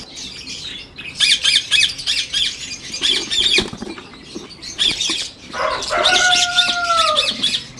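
Green ring-necked parakeets in a home breeding aviary give repeated harsh, close squawks in irregular bursts, with a couple of longer rising calls near the end.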